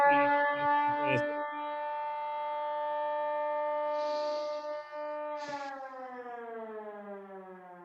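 Civil defense siren sound effect in a radio play reading, a loud sustained wail holding steady for several seconds before sliding down in pitch, with a brief noise burst partway through and no talk over it.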